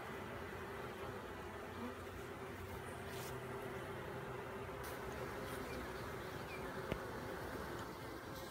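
Honey bees being moved from a nuc into a hive box make a steady, dense buzzing hum close by, continuous and fairly quiet, with a few faint knocks and no talking.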